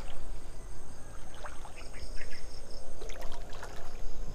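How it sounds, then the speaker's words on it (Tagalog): Water flows steadily outdoors with a continuous rushing wash and occasional trickling splashes near the microphone. "Dito kasi maririnig po niya yung tubig no."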